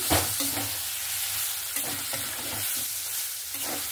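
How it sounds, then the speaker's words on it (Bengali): Chikni greens with prawns being mixed in a pan after a splash of mustard oil, a close continuous sizzle with rhythmic scraping strokes of a spatula and small clatters. "এটা নামানোর আগে আমি একটু সামান্য পরিমাণ সরষের তেল দিয়ে আবারও আমি ভালো করে মিক্স করে নেব"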